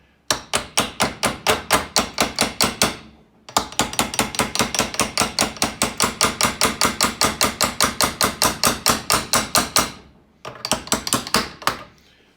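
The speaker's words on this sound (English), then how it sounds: "So just tap nicely with the hammer here." Steady, rapid metallic hammer taps on a bearing in a KitchenAid Pro 600 mixer, a long even series, close and sharp, with two brief pauses before the tapping resumes.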